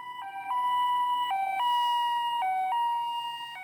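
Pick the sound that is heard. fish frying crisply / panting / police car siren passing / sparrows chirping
police car siren passing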